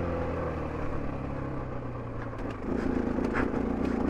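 A 2024 Husqvarna FE501S dual sport motorcycle is ridden, its engine droning steadily up close, then rising in a louder, busier surge of throttle toward the end.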